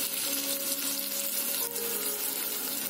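Two finely chopped onions hit hot oil already seasoned with asafoetida, raising a loud, steady, close sizzle that fills the whole stretch without a break.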